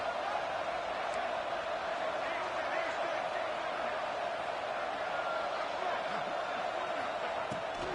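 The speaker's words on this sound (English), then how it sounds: "Crowd getting this defense whipped up on 3rd down." Football stadium crowd at a South Carolina game roaring on third down, a dense, steady wall of cheering and noise that holds loud and unbroken throughout, with no single voice standing out.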